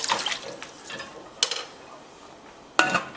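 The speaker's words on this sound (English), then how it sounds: "Give it a stir." A spoon stirs chicken noodle soup with stock in a pot, sloshing softly with two sharp clinks against the side of the pot, close and without talk.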